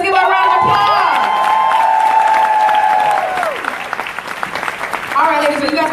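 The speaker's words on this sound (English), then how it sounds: "Let's give her a round of applause." An audience at a MegaFest panel event claps and cheers, with whoops and shouts rising and fading over several seconds while music or voices carry through.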